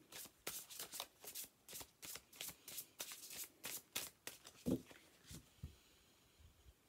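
Tarot cards are shuffled and drawn in a steady series of crisp riffling swishes, roughly twice per second, close and quiet, before trailing off into a few soft handling sounds.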